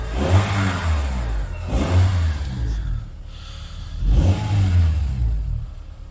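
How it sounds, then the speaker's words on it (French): A warm 2008 Honda Odyssey RB1 engine revs up and down in three swells, settling back toward idle between them, loud and close. "j'ai juste un tout petit peu accéléré pour que vous puissiez éventuellement entendre"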